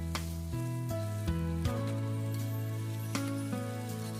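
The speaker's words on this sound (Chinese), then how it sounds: "接着下入辣椒和洋葱炒至断生。" Chilies and onions stir-fried in a wok after garlic, ginger and chili paste go in, making a steady close sizzle broken by a few sharp clatters from stirring or tossing.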